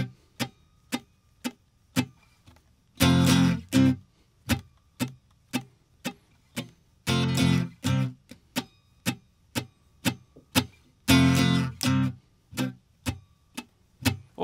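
A chord progression with an uneven six-and-two-beat rhythm, with full chords sounding in short bursts about every four seconds over a steady, sharp clicking pulse like a metronome. The sound is sparse and clear, with no voices.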